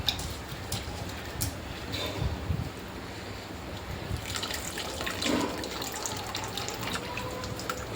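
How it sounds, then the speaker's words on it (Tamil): Tamarind water is poured into a cooking dish for a vegetarian meal, a soft, continuous trickle and splash at close range that swells slightly partway through. "கொஞ்சமாக புளி தண்ணி ஊற்றிக்கலாம்."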